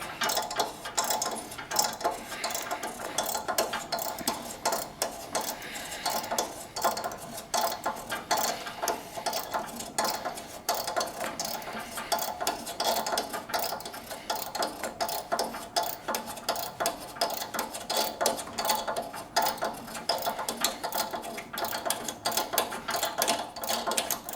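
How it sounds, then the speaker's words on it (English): Steel thread tap, likely 5/16, being reversed and withdrawn from a Classic Mini subframe under repair, giving a steady, close, dense run of fine ratcheting and grinding mechanical clicks for the whole stretch with no talk. "I now just reverse the tap and draw it out"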